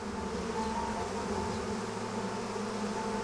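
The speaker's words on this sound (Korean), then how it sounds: "이 생명체는 살인벌이라고 불립니다." A swarm of Africanized killer bees gives off a steady, dense buzzing drone that holds even and moderately loud throughout, with no voices over it.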